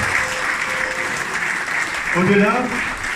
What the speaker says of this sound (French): je vais vous demander de l'applaudir